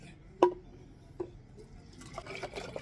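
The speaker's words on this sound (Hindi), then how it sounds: "ये इसमें और इतना ही पानी को मिलाना है।" Water being poured into a buttermilk solution for gardening use: a sharp splash and drip, then a softer trickling pour building toward the end, close by and with no talking.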